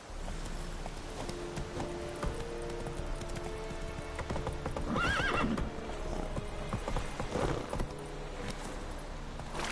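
Horse hooves clip-clop steadily at a gallop through a PS4 video game, loud and continuous, with a horse whinnying in the middle and other game sounds layered underneath.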